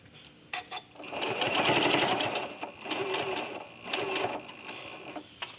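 A sewing machine stitches binding onto a quilt edge in rapid mechanical bursts, running loud and close for a few seconds with brief pauses between runs.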